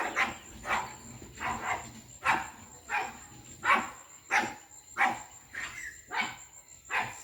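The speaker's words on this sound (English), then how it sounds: "Fucking dog." A dog barks repeatedly in an even rhythm, about a dozen sharp barks spaced roughly half a second apart, moderately close, with a steady insect-like whine running beneath and no talking.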